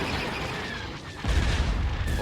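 Starship weapons fire and explosions rumble in the Empire at War video game, with a steady roar of battle that swells into a louder, deeper boom partway through.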